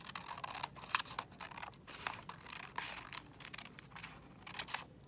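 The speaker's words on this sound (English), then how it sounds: "Now you're gonna cut it long ways." Scissors cut paper lengthwise during a block printing session, giving a steady run of close, crisp snips and papery rustling, fairly quiet, with no talking.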